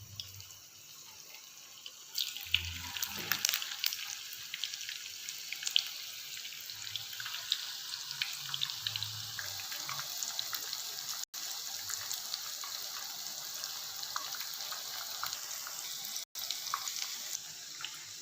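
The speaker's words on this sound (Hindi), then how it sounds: "तो ये हमारे चपली कबाब जो हैं बाकी के, ये भी हम इसी तरह ही फ्राई करते हैं" Chicken chapli kebabs fry in a pan over a low flame, giving a steady, close sizzling hiss with scattered small crackles and pops throughout, and no talking.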